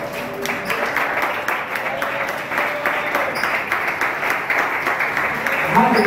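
Church congregation applauding together for several seconds, a dense steady wash of many hands clapping with a faint voice rising near the end.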